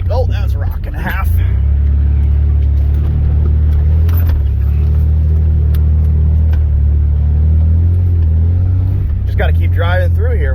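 A cheap Chevrolet S10 Blazer grinds slowly over rocks on a forest trail, its engine droning steadily and loud throughout, with someone talking over it.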